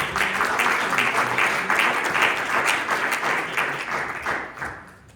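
A church congregation at a Bible study claps together in a dense, steady burst of applause that holds for several seconds before thinning out and fading at the end.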